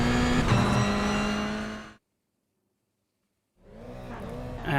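A race car engine in a racing video game revs loudly and steadily, cuts out into about a second and a half of silence, then picks up again with a rising engine whine.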